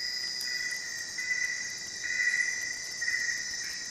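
Insects in the Amazon jungle keep up a steady, high, shrill chirring that pulses slightly in loudness and carries alone without any voices.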